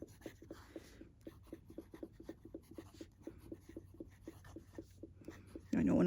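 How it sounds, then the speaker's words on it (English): A new BENU pen scratches across paper in a fast, regular run of short strokes, close and quiet, ending with a louder rustle. "I know when I write fast, my handwriting gets really sloppy."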